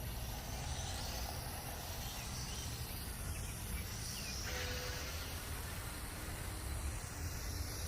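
Full-throttle buzz of an XK X250 drone fitted with Latrax Alias props, a constant high whine and broadband hiss that holds steady without pause.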